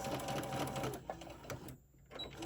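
A sewing machine runs steadily while back stitching a drawstring Santa bag, its close, rapid whir stopping briefly near the end before starting up again.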